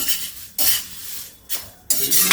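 A spoon stirs powdered sugar through murmura and poha namkeen in a dry pan, giving three close, loud scraping strokes of metal with quieter rustling between them.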